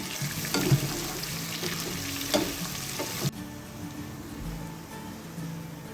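Whole garam masala spices fry in hot oil with a loud bubbling sizzle and a few stirring clatters, then settle into a quieter, steady crackle.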